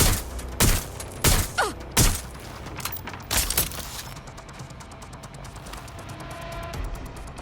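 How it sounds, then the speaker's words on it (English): Bursts of gunfire in the video game Watch Dogs Legion, several loud sharp shots in an uneven volley over the first four seconds, then fading into a low ambient hum. "Someone's shooting!"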